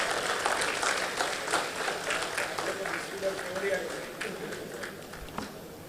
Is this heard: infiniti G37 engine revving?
no